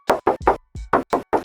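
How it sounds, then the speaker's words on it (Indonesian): Knuckles rap the metal hood of a Honda Brio car seven times in a quick, even rhythm, each knock a short, close, hollow tap. "Lalu untuk kap mesinnya, coba kita tes ketok."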